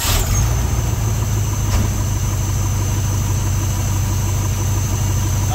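1977 Ford F600 truck engine idling without the choke, a steady, even low rumble close by that holds unchanged for several seconds with no talking.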